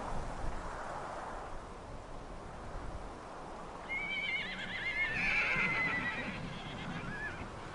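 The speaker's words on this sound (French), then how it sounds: "un premier groupe de chevaux sauvages apparaît au loin" Wild horses in the Danube Delta whinny in the distance, a rising high-pitched neigh over steady wind and outdoor ambience, with a second fainter call trailing off near the end.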